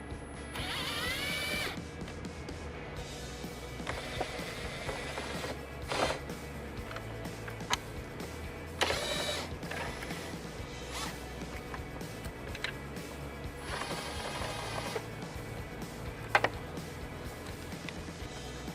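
Soft, rapid ratcheting and tool clicks come in short bursts as Torx T15 screws are backed out of a plastic tow mirror shroud on a Chevrolet Silverado, close and fairly quiet with pauses between screws.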